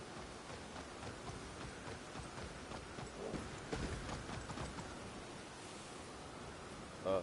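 Faint, steady clip-clop of horse hooves at a walking pace over a soft hissing background in the video game Elden Ring, fairly distant and quiet.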